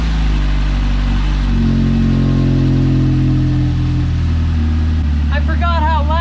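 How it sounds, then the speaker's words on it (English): An Ecotec-swapped Mazda Miata's engine cranks, catches and settles into a loud, steady idle with a deep rumble, close by, while a person speaks over it near the end. "I'm gonna go ahead and start the car"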